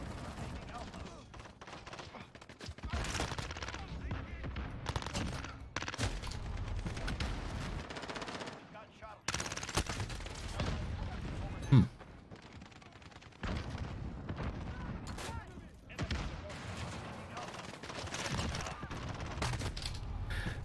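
Shotgun fire in Modern Warfare gameplay, with repeated loud blasts and other gunfire bursts through a dense, busy battle mix, with a voice talking over parts of it.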